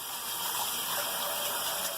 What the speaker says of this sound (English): Run this under the water real good.